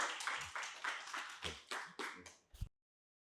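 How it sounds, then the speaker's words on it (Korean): An audience at a lecture hall talk claps quietly in a few scattered bursts that thin out and stop within about three seconds, with no speech. "큰 박수로 환영해 주시면 감사하겠습니다."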